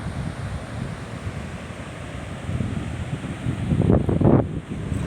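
Sea waves washing on a beach in the morning, with gusty wind buffeting the microphone and a surge of surf swelling louder near the end, no voices.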